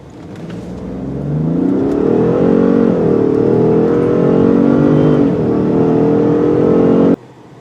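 A 2021 Ford F-150 with the 3.5L hybrid powertrain accelerates hard from a standstill, its engine note climbing in loud, rising harmonics for about seven seconds before cutting off abruptly.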